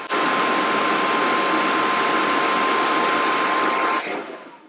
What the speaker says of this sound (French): Je l'allume. Voilà un petit peu le bruit qu'il peut faire.